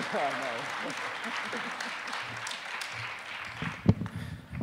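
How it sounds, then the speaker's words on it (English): Audience applause for a speaker named Michael at an Ignite Denver talk night, a moderate steady wash of clapping across the hall with a louder thump near the end. "please, huge round of applause for Michael"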